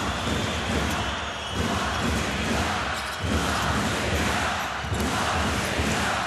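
Arena crowd at a FIBA EuroBasket 2025 Round of 16 game between Lithuania and Latvia, roaring and cheering steadily throughout with dense, loud noise and a few swells.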